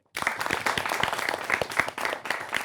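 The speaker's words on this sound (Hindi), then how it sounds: "इनके लिए भी तालियां बजनी चाहिए" Applause for Delhi University students in a television studio: a small group claps briskly with distinct, sharp hand claps that start abruptly, stay close and lively, and stop together at the end.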